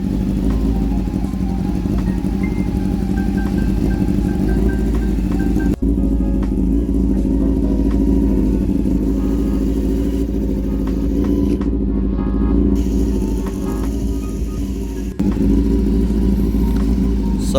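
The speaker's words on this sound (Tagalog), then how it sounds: "So, ang lakas ng SC Project, rinig mo pa rin yung hugong ng makina." A Honda CB400 motorcycle fitted with an SC Project exhaust idles and revs nearby, a loud, deep, continuous engine rumble that holds steady, with a couple of brief blips, and no talking.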